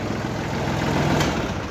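A tractor engine idles steadily at close range, a loud, continuous low rumble with no pauses.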